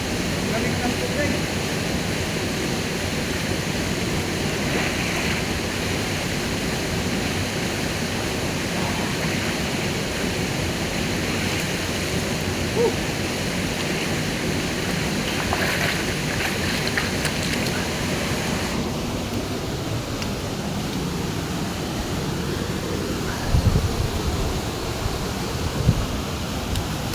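Water rushes steadily at an outdoor swimming spot, a broad, unbroken roar that stays loud throughout, with faint sounds of a person briefly near the end.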